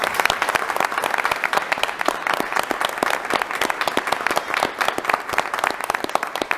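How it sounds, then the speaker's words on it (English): A council meeting audience claps for the city's Youth Advisory Committee members, a steady, dense round of applause heard on its own without talk. "So let's have a big round of applause for all these."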